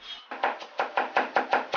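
A kitchen knife mincing garlic cloves on a cutting board, a fast, even run of about eight crisp chops close up, with no talk.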